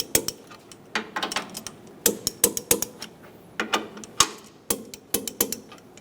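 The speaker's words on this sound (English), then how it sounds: "Torque the bolts to 43 foot-pounds." A torque wrench tightens the bolts on the inner bumper brackets of a 2014-2018 Chevrolet Silverado 1500. Close, sharp ratcheting clicks come in quick bursts, with brief pauses between pulls.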